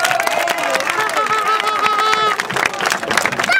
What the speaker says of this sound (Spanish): Yo quiero que nos regalemos un aplauso.